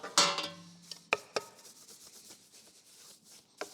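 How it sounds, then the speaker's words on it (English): A brush sweeps dust off a car floor pan during a Fiat Dino restoration: quiet, scattered scratchy strokes and a few short bursts of rubbing, close and alone. "Just get a brush and we'll just clean the dust off that."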